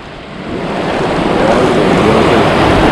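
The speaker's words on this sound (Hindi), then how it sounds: "वाटर फ्लो हो रहा है।" Water rushing over Sandy Falls waterfall in West Nipissing, Ontario: a close, loud, steady roar that swells over the first second and then holds constant, with no talk.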